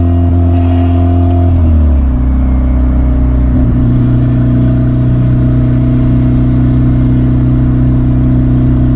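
A turbocharged Honda car accelerates on its first drive after a billet-wheel turbo install, its engine note climbing through stepped rising tones, loud and close with steady rumble.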